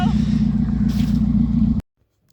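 Race car with a modified exhaust revs in a loud, steady engine roar lasting under two seconds, then cuts off abruptly into silence.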